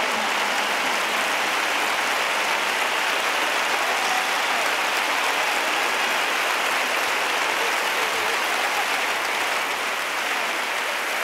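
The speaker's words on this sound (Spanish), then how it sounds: "Hasta que se apague el sol, ese fuerte aplauso para todos." Sustained applause from a concert audience at a show in Seville, a steady dense wash of clapping with no talking, filling the whole stretch at even loudness.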